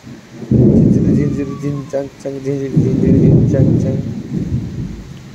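Monsoon rain falls with rumbling thunder in a rural setting, loud and close, with a deep roll swelling and fading across the clip while voices talk faintly underneath.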